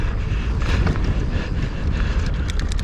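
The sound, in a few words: wind buffeting the microphone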